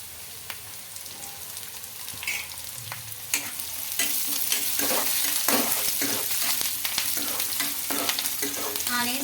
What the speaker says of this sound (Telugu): బాగా ఫ్రై కావాలండి ఆనియన్స్